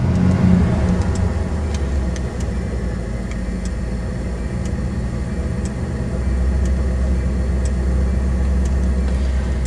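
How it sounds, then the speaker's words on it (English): A 1989 Lincoln Town Car engine rumbles steadily from inside the car as it accelerates, a low continuous drone with faint ticking over it. "Let me just step on the accelerator here. Yeah, and it accelerates."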